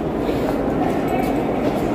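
Inside Antwerp's central train station, a dense, echoing hall ambience with the rumble of trains and crowd noise, and people talking over it.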